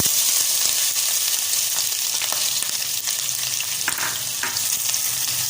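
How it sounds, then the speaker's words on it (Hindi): Chopped onions fry in about a quarter cup of hot oil for roti ka salan, a steady close crackling sizzle with faint stirring scrapes throughout. "तो यहाँ पर मैंने प्याज शामिल कर दिए हैं और बहुत ही अच्छी तरीके से फ्राई कर लेते हैं इसको"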